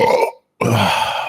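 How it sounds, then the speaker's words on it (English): A loud, close burp in two parts broken by a short gap, the second part deep and rumbling. "Excuse me for my disgusting burp"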